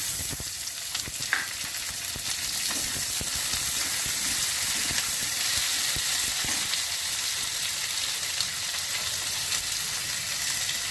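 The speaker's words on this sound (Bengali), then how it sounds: "পেঁয়াজ দিয়ে দিচ্ছি, একই সঙ্গে ভেজে নেব।" Potatoes and onions sizzle together in a hot pan over a cumin and garam masala tempering for a potato-cauliflower curry, a steady, dense frying hiss that holds for the whole stretch with no speech.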